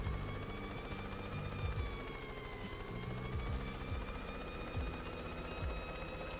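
A helicopter in the video game Yooka-Laylee, a continuous whirring rotor drone with rhythmic chopping pulses and a sustained hum, steady and fairly loud with no voices.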